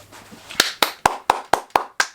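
Seven sharp hand claps in a slow, even rhythm, close and loud, with no talking.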